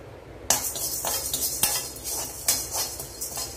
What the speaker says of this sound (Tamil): இரும்பு கடாயில் வறுத்துக்கோங்க, ஈஸியாக வறுப்படும்.